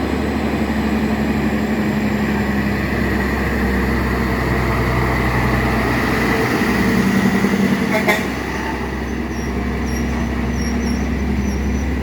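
Freightliner truck engine on a Jamaican road, a steady low idling rumble with a brief horn toot about two-thirds through, nearby and loud, no talking.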